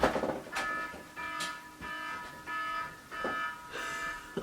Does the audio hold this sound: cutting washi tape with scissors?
no